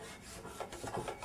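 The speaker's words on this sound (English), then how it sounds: "Scrape that out a little bit." Excess glue is scraped out of the joint of an edge-glued solid wood panel, making a short burst of close scratchy scraping strokes that grows slightly louder toward the end.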